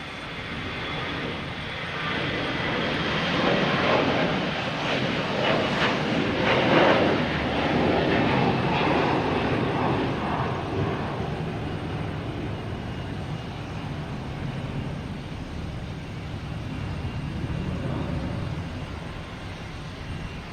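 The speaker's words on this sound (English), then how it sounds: "Next taking off is Delta at A321 heading to Atlanta. And then we have a JetBlue coming in from Atlanta in A220." A Delta Airbus A321 takes off and a JetBlue Airbus A220 lands at Boston Logan Airport, a broad, sustained jet engine rumble rising then easing off at moderate distance, with no talking.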